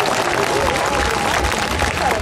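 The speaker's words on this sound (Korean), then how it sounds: "박수 한번 보내주십시오. 박수 부탁드립니다." At a county community concert in Uiryeong, South Korea, an audience applauds with a brief, steady wash of clapping that lasts a couple of seconds.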